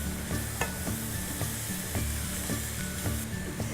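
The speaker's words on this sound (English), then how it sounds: "Now just stir fry this on a really high flame for just a minute." Vegetables are stir-fried in a pan over a very high flame for noodles in coconut broth, with a loud continuous sizzle broken by regular scraping stirs, close and alone.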